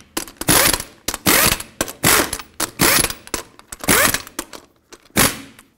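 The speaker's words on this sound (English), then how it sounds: "in a cross pattern, torque them to 98 foot-pounds" A torque wrench clicks and ratchets in repeated bursts, tightening the lug nuts on a 2005-2021 Nissan Frontier 4.0L V6 to 98 foot-pounds in a cross pattern; about six loud, close runs of rapid clicking separated by short pauses.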